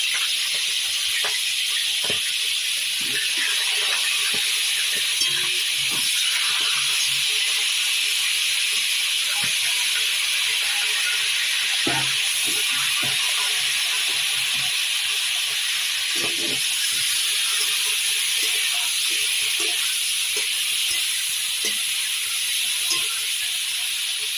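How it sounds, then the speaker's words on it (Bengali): Steady loud sizzling hiss of chicken frying in hot mustard oil, with scattered soft crackles and pops over a continuous spitting sound. "এবার আমি কড়াইয়ের তেলে চিকেনটা অল্প করে ভেজে নেব, হালকা করে।"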